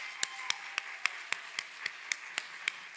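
Handclapping at a physician assistant graduation ceremony comes as steady, evenly spaced sharp claps, about four per second, fairly close and with no voices.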